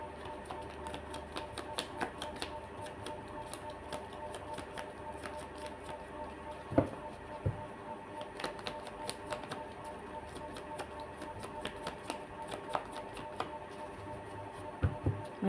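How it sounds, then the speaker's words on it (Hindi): Tarot cards shuffled by hand during a reading, giving a steady run of soft, quick riffling clicks and taps with a few sharper snaps, close and fairly quiet, with no talk. "my last shuffle."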